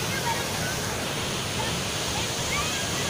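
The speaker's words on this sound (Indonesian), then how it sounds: "Air terjun Kepayan." Waterfall at Kepahiang, Bengkulu, pours as a constant broadband roar of falling water, steady and fairly close throughout.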